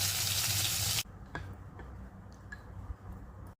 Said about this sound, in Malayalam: നമുക്ക് കടുക് അങ്ങോട്ട് ഒഴിക്കാം.